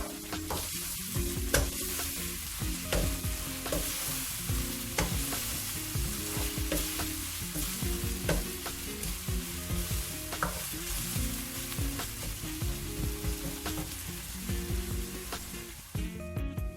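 Chopped onion frying with chilies in a pan, a loud continuous close sizzle with steady stirring scrapes throughout, no voices.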